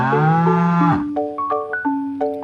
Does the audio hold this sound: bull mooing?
yes